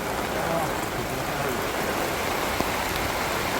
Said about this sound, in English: We had an absolute downpour, as you can see, for about half an hour